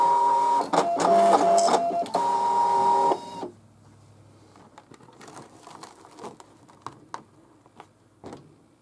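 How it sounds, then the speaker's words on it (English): Brother ScanNCut cutting machine running its automatic test cut, a loud, steady mechanical whir with motor tones for about three seconds, then stopping, leaving faint clicks and paper handling. "When you begin cutting, your machine will automatically do the test cut and then pause so that you can evaluate it."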